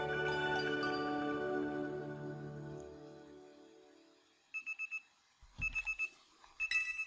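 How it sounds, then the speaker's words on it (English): In-game alarm clock in Pokémon Legends Z-A goes off: a fading tonal chime, a pause, then three bursts of rapid electronic ringing beeps, loud and close with no talk. "And my alarm's going off, of course it is."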